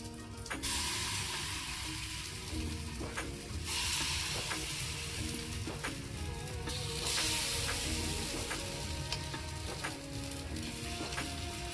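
Uppam batter sizzles in an oiled appam tray over the heat, a continuous loud frying hiss with small crackles and occasional scraping taps, steady throughout and without any voices.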